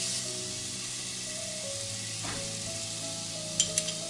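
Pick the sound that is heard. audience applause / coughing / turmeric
turmeric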